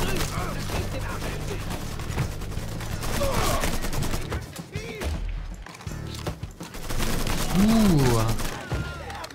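Gunfire in the video game Mafia 3 crackles in bursts of sharp shots over a busy game soundscape, with voices talking and shouting throughout.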